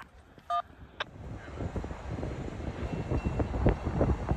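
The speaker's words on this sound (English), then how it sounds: "2 trains on the Grand Junction, folks." Night freight and commuter trains roll along the Grand Junction railroad in Cambridge, Massachusetts, a steady low rumble of wheels and cars building in loudness, with a brief bell-like tone near the start and no talk.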